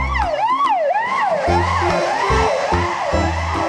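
Wailing siren from a toy ambulance, a rising and falling electronic tone repeating several times, mixed with a low buzzing horn-like pulse, close and loud with no talking.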